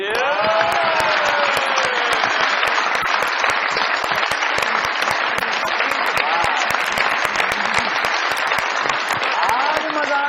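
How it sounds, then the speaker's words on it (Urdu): A studio audience applauds a guest's entrance on a comedy talk show, with loud continuous clapping sustained for ten seconds and faint music or voices underneath. "بہت ساری تالیوں میں ویلکم کیجیے گا محترمہ ثانیہ سعید صاحبہ جی"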